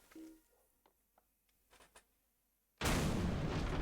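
A sudden, loud explosion from the online game Lord of the Rings Online erupts after a few quiet clicks and faint sounds, a broad roaring blast that holds to the end, with no voices.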